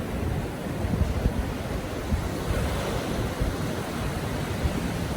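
Choppy sea waves off Blackpool churn and break continuously around a lifeboat, with a rough, rushing wash of noise and wind buffeting the microphone.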